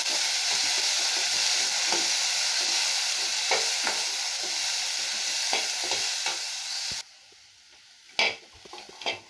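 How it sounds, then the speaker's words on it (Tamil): Carrot and beans poriyal fries in a pan, giving a loud, steady sizzle with repeated scraping stirs. The hiss drops suddenly near the end, followed by a couple of knocks against the pan. "இப்போ நல்லா பெரட்டி விட்டுக்கலாங்க."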